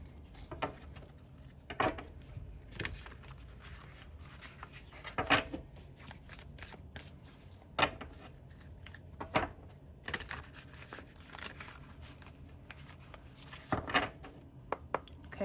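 Tarot cards are shuffled by hand close up in repeated soft riffles and slides, quiet overall, with occasional sharper flicks and taps spread across the stretch and no talk.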